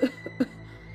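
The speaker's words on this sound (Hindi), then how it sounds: "फुटपाथ पर बैठी बुढ़िया खांस रही होती है" An elderly woman coughs in a cartoon scene set on a footpath, giving two short, hoarse bursts about half a second apart, close and clear against a quiet background.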